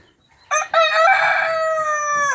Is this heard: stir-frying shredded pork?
no